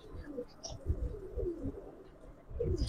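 Giribaz pigeons, green-necked silver birds, coo softly in a series of low, throaty bursts at close range, with faint background noise.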